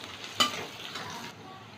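One large chopped onion sizzling in oil in a pan for ghugni, a quiet steady hiss broken by a single stirring scrape and a faint clink, close and without voices.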